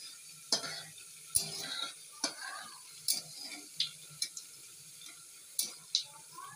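Onions fry in a pan with dried red chillies, a soft low sizzle broken by about a dozen sharp spoon taps and scrapes against the pan at irregular intervals.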